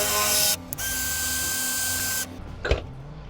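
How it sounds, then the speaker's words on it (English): Power drill boring out a badly rusted fastener with a 3/16 inch bit while replacing an RV refrigerator, a steady high whine running for a couple of seconds, pausing, then resuming, ending with a sharp metallic clunk. "So we're gonna drill it out."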